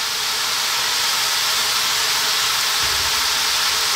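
Chopped kale stir frying in a pan for beef curry, a loud, dense and steady sizzling hiss running throughout with no break.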